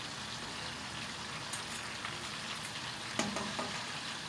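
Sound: yogurt soup boiling in a pot

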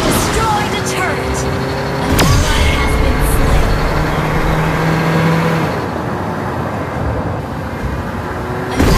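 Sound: Johnson's car engine accelerating in Mobile Legends video game

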